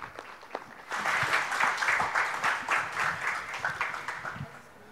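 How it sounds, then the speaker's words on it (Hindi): An audience at the Parenting for Peace national convention in Surat welcomes a speaker with loud applause. It follows about a second of quieter sound, then holds steady as a dense, sustained round of clapping until the clip ends. "उनके लिए जोरदार तालियों से स्वागत करते हैं"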